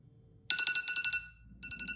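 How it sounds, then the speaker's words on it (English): A bright, rapid iPhone Radar alarm tone pulses in quick repeating beeps, loud and close, then a fainter second burst follows after a brief gap. "the annoying radar sound"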